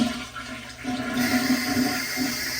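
A toilet tank drains with a rushing flush of water that swells and holds steady, close by and loud, with no one speaking.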